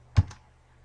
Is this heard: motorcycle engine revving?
no